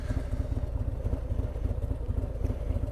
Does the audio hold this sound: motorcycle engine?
yes